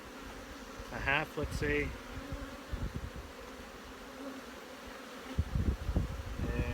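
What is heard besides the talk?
honey bees buzzing at an open hive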